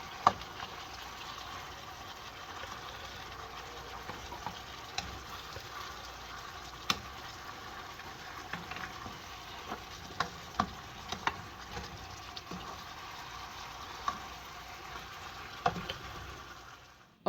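Sauce simmers over Jamaican fried fish in a pan, a quiet, steady sizzle broken by scattered small pops and light utensil clicks.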